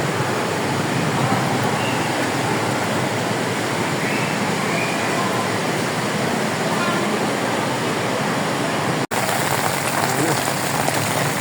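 Steady heavy rain pours down continuously during flooding, a dense hiss of water hitting surfaces, loud and close throughout.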